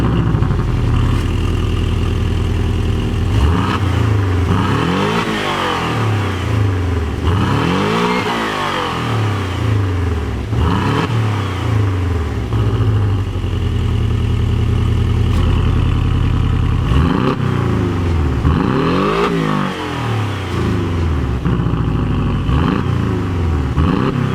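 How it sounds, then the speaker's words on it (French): A Porsche Cayman 718 with a 300 hp four-cylinder engine and sport exhaust revs repeatedly over an idle, the loud, close exhaust note rising and falling in a series of sharp sweeps, with no talking. "Cette voiture-là est équipée de la ligne Sport, donc vous allez voir le son à l'échappement est quand même pas dégueulasse du tout."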